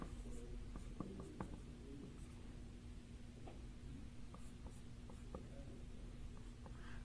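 Chalk or marker scratches and taps on a board during a mathematics lecture on polytopes, coming in short strokes over a quiet room hum, faint and intermittent.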